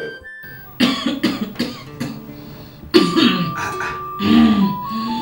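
Someone coughs in several harsh, close bursts, separated by short pauses, with throat-clearing sounds mixed in.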